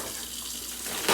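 Hot water runs from a kitchen tap into a pan holding butter for homemade stuffing, a steady close hiss of flowing water that swells brighter near the end.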